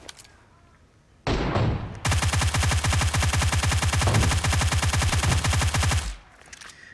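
Suppressed UMP submachine gun in PUBG Mobile firing long rapid automatic bursts, a dense loud stream of muffled shots with a short pause between bursts, no speech.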